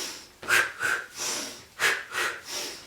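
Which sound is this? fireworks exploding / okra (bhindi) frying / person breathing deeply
person breathing deeply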